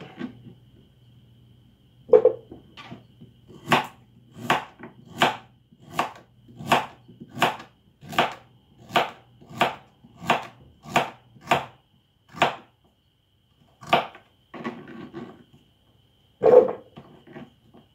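A knife chops carrots and beetroot on a board in a steady run of about a dozen evenly spaced strokes, then a few scattered cuts and pauses.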